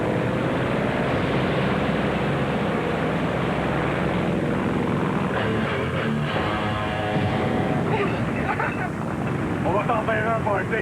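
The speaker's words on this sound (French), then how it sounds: "Tiens, un avion!" Airplane flying overhead at an outdoor party, a steady broad engine roar filling the whole stretch with voices talking and calling over it.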